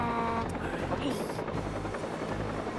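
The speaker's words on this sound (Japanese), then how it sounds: "ヘリがおった。" Helicopter hovers nearby in the video game Watch Dogs, a steady rotor drone with buzzing blade chop holding throughout, loud and continuous, with a brief interruption of game sound effects.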